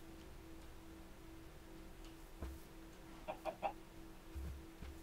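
A chicken in the video game Minecraft clucks in a few quick, faint bursts near the end, over a quiet background hum with soft ticks and no talking.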